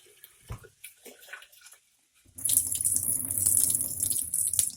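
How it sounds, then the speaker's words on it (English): Tap water runs in a steady, loud stream to rinse sprouting seeds, starting partway through after a stretch of faint handling sounds and near-silence. "I'm going to go ahead and give it one more rinse"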